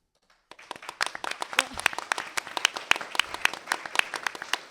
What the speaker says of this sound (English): I didn't actually do that to get applause, but thank you.